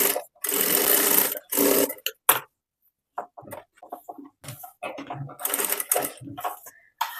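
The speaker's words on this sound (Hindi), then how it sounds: "इसमें मैं सिलाई लगाऊंगी पहले" A sewing machine stitches blouse lining onto non-iron paper buckram in loud, close bursts of whirring, stopping and restarting with short pauses, and clicks and handling sounds in between.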